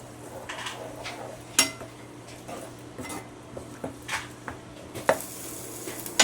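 Chopped green chickpea leaves being stirred in a pan, with irregular soft scrapes and clinks of a spoon against the metal over a faint background hum, fairly quiet and close.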